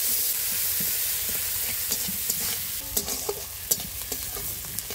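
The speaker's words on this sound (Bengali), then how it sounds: "তো শাক ভাজার জন্য এই যে কড়াইতে তেল, পেঁয়াজ দিয়ে দেবো, কেটে রাখা পেঁয়াজ দিয়ে দেবো।" Chopped onions fry in hot oil in a wok, cooking for greens, with a continuous sizzle and occasional sharp crackles and pops that grow more frequent toward the end.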